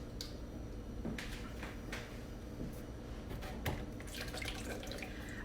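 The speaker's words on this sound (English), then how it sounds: "So these have been washed on the top, and I'm going to strain them into a bowl." White beans being strained into a bowl in a home kitchen while making cassoulet, with running water and wet splashing that carry on steadily, broken by a few sharp clatters and knocks, fairly quiet and with no talking.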